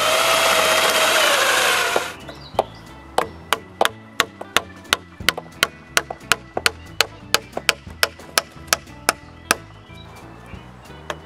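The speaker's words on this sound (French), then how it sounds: "je peux percer les trous pour mettre les chevilles de bois qui vont retenir tout ça ensemble" A power drill bores holes through wooden beams for wooden pegs, heard as a steady loud whine for about two seconds, then a long run of sharp, evenly spaced knocks or taps with no speech.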